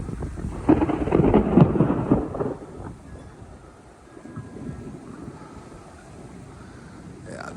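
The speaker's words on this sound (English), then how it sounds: "That thunder was pretty cracking though." Thunder in a Central Florida summer thunderstorm rolls loudly for a few seconds, then fades to a softer, lingering rumble mixed with gusty wind noise on the microphone and a faint wash of rain.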